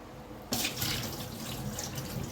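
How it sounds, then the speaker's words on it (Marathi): Tap water runs steadily into a sink or vessel where lentils (dal) are being rinsed clean in a home kitchen, a continuous splashing gush that starts abruptly and stays close and moderately loud, with no talking. "एक डबा डाळ घेतलेली आहे ती स्वच्छ धुवायची आहे"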